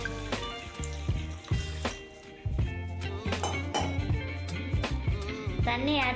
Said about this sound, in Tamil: தண்ணி 1 கிளாஸ் ஆட் பண்ணிக்கலாம்.